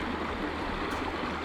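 A creek at the end of a walking trail flows steadily, a close, continuous rushing wash of water with no other sounds standing out.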